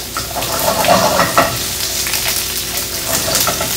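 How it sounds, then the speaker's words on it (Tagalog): Onions frying in a pan for bistek Tagalog, a steady broadband sizzle with a few stirring scrapes near the start, loud and close with no talk. "pwede na tayong magprito ng sibuyas"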